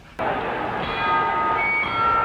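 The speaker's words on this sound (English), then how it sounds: "There's the bell ending round 8." A boxing ring bell ends a round with one sharp strike that rings on as a sustained metallic tone, loud and close.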